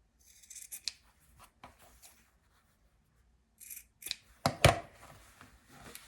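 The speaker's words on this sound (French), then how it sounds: "on peut tout de suite couper nos coins ici" Scissors snip through paper to cut the corners of a piece for a magic craft, a few crisp cuts spread across a quiet stretch, close and clear with a louder burst of snipping near the end.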